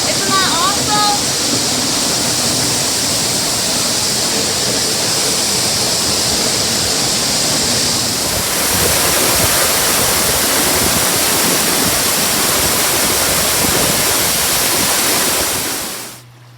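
A Washington State waterfall roars from close behind the falling water on a hike, a loud steady broadband rush that barely changes, briefly joined by a short whistle-like tone near the start and fading out at the end.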